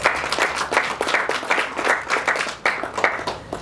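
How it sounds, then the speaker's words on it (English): An audience at a panel discussion claps for a contractors' association president, the applause coming in uneven, pulsing waves of hands, moderately close, with no talk over it. "Let's give him a round of applause, please."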